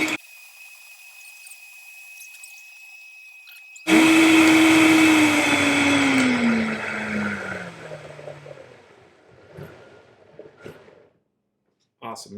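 Countertop blender blending oats into a chocolate cake shake, a loud whirring motor that kicks in abruptly, holds a high whine, then winds down in pitch and fades out, with quiet voices before and after.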